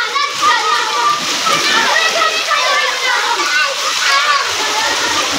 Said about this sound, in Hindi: बारिश इन्नी तेज़ है ना अज, तकरीबन 1 घंटा हो गया जी बारिश पैंदी नूं